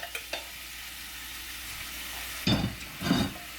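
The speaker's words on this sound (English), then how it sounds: "so that I can then toss the rapini in with the oil and garlic" Rapini is tossed into a big pan of hot oil and garlic, giving a steady sizzling fry after a few light clinks, then two louder bursts of hissing crackle as the greens are stirred and tossed.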